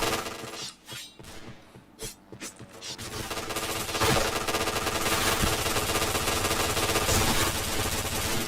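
Rapid video game gunfire opens as a few separate shots, then becomes a dense, loud automatic burst over a steady game backdrop.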